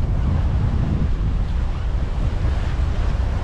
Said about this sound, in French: le vent vient de la mer. Il est d'est en fait.